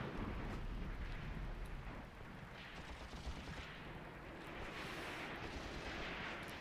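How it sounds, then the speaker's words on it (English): Artillery or mortar barrage in the WWII tactics game Graviteam Tactics at the Second Battle of Kharkov: continuous rumbling blasts and explosions rolling over each other, dense and loud throughout with no talk. "taking arty fire now. Or mortar fire, yeah."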